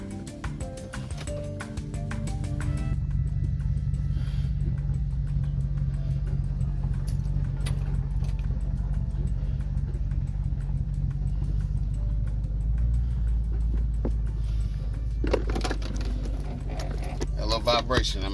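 A vehicle exhaust fitted with a small cherry bomb muffler drones steadily from up close, a low continuous rumble heard from inside the vehicle with a little vibration, while people talk over it at the start and end.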